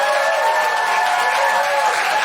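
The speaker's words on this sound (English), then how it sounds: "Can I have a huge round of applause for the incredible Lou Sanders?" Sustained applause from a theatre audience at the close of a live podcast show at Soho Theatre, a dense, even wash of many hands clapping with no break for its full length.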